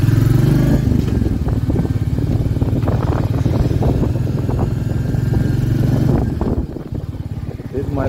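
Motorcycle riding along, its engine humming steadily at mid pitch with clattering road noise throughout, then easing off near the end; voices can be heard over the ride.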